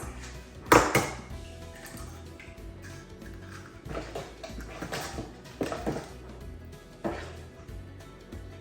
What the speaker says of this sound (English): And now 2 eggs.